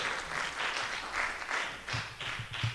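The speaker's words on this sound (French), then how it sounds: "Let's put our hands together for the Lord." A church congregation claps together in steady rolling applause at a worship service, with many hands beating in bursts that swell and ease across the room.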